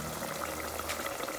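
A seafood boil seasoned with garlic, grilling dust and Cajun seasoning bubbles steadily in a pot, a soft continuous simmer with faint liquid pops and no voices.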